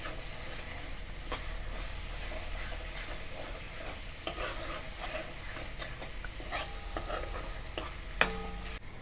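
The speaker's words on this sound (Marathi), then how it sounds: "तर आपल्याला तेलावर छान असं तळून घ्यायचं आहे याला" Ground spice paste frying in oil for a chicken sukka, a soft steady sizzle close by with frequent spoon scrapes and clicks against the pan, one sharper knock near the end.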